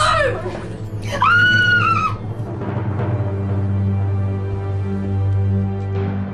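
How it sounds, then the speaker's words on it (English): In a dramatized struggle, a shrill scream rises and falls at the start, then gives way to lower shouting and a sustained droning din. The noise stays loud throughout. "Suddenly, he hears shouting and loud noises."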